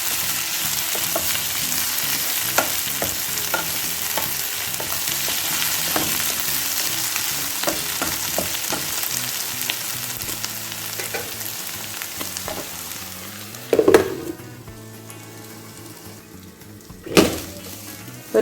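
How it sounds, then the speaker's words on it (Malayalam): Bitter gourd fries in oil with a dense, continuous crackling sizzle, close and fairly loud, with two sharper stirring clatters standing out near the end. "ഇത് നന്നായിട്ട് ആ എണ്ണയിൽ കിടന്നിട്ട് നന്നായിട്ട് വറുത്ത പോലെയായി വരുന്നുണ്ട്"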